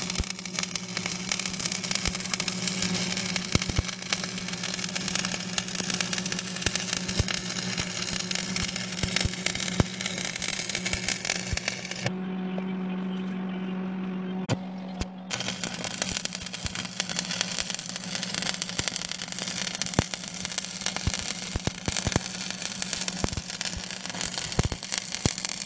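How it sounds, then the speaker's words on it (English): Lincoln AC 225 stick welder laying a cap pass, a steady loud crackling arc buzz with a low hum that runs almost continuously, briefly changing tone midway as the rod is restruck, heard up close with no talking. "So I'm gonna go ahead and cap it right quick."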